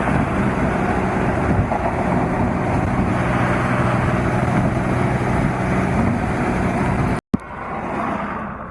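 A twin-turbo MK4 Supra cruises down a Texas highway, its engine and tire roar a loud, steady drone throughout, broken by a brief cut near the end before the noise resumes.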